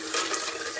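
Running water pours in a steady, loud hiss and splash, heard close up and alone.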